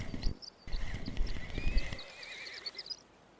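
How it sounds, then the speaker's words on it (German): A horse in the video game Russian Fishing 4 whinnies loudly while its hooves clip-clop nearby, the neigh rising over the hoofbeats before fading. "das Pferd ist auch wieder da"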